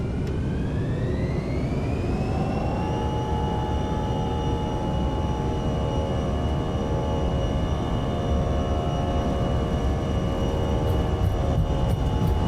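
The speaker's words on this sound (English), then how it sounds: "Engines are stable. Toga." An airliner's jet engines spool up to takeoff thrust, a loud steady roar with rising turbine whines that climb and then hold at a constant pitch for the whole stretch.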